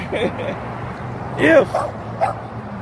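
A dog barks and yips in short, loud bursts outdoors near parked cars, with a few whimpering notes between them, partly under someone talking.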